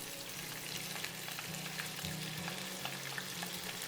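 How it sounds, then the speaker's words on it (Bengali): Small shrimp fry in hot oil, a soft, steady crackling sizzle with faint stirring scrapes, fairly quiet and continuous with no voices. "এবার 1 থেকে 2 মিনিট আমি চিংড়িটাকে তেলে ভেজে নিব"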